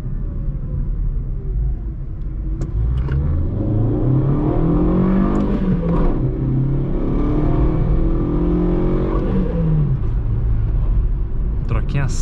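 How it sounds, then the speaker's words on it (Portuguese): VW Voyage 1.6 manual car (2020) pulling away in first gear at night, a loud steady engine rumble with revs rising and falling as it accelerates, heard from inside the car alone and close. "saídinha em primeira pra vocês verem"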